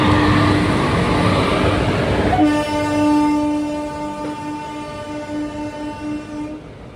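The Villupuram superfast express train rumbles loudly past a level crossing as its horn sounds in a long, sustained blast, then the noise slowly fades away.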